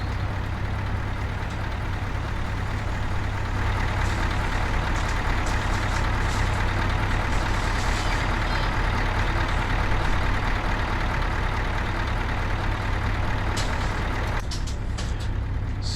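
A heavy truck's engine rumbles at a low, steady idle while it backs up in a truck-driving simulator game, with a hiss like an air brake and reversing beeps near the end.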